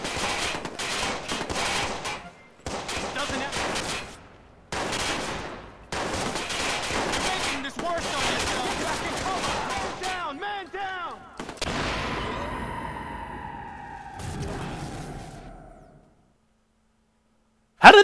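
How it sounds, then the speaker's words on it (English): Gunfire in Watch Dogs: loud, dense bursts of automatic weapon fire in several sustained volleys with short gaps, followed by quieter ringing effects and then silence. "Got shots fired at my location."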